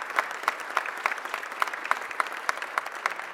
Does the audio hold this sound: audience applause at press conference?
yes